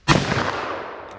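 .44 Magnum fired from a 4-inch revolver outdoors: one loud, close, sharp blast followed by a rolling echo that fades out over about a second.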